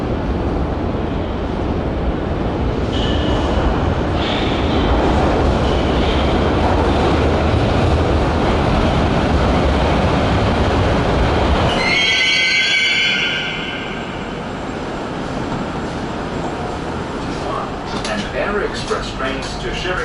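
A Moscow metro train rumbles loudly and steadily close by, then the roar drops away amid squealing brake tones as it slows, with faint voices and clatter in the station afterward.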